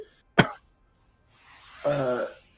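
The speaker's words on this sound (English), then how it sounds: "She coughs." A woman gives a single sharp cough, then after a short pause a longer, voiced, strained sound like a pained cough or groan, both close and clear against near silence.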